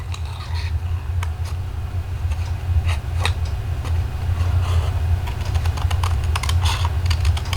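Scissors snip through paper while a rain-boot shape is cut out, a string of short crisp cuts repeating over a low steady hum.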